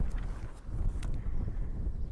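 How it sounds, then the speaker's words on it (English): Wind buffets the microphone outdoors at Bottomless Lakes in New Mexico, a continuous low rumbling roar that swells and eases with the gusts. "It's very windy in New Mexico."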